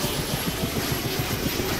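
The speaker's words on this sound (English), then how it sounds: "Chopper spooling." A helicopter engine spools up in a video game, a steady low rotor chop with a rising whine. It stays loud and continuous throughout.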